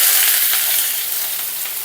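Onion pieces frying in hot oil with a bay leaf in a pan, a steady close sizzle that holds level and eases slightly, with no voices, while an egg gravy curry is being made.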